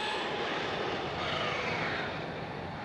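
A Traxxas XRT RC monster truck with a Castle MMX8s electric motor system driving outdoors near a BMX spot, a faint steady whirring drone with no distinct pauses.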